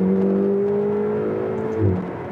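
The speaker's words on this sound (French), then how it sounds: "Celui qui me dit que ça, c'est pas un joli son de V8, non, le son est incroyable." Ferrari 488 GTB with its twin-turbo V8 held at a steady high rev, a smooth droning tone that holds evenly then drops off near the end, heard close and alone.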